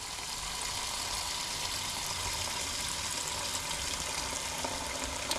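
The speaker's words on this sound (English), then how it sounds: "Fill it up with cold water." Cold water runs steadily into a plastic bin used for curing 3D-printed miniatures, a continuous close hiss and splash with no pauses.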